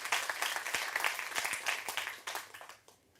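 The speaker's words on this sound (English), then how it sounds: "Please give them also a warm welcome, a warm applause." A room audience gives a short burst of steady applause at moderate distance, fading out after about three seconds.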